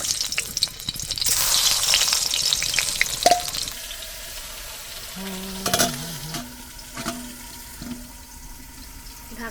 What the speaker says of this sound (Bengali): আমাদের বেগুন ভাজা হচ্ছে